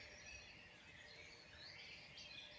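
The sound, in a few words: birdsong of blackbirds, robins and starlings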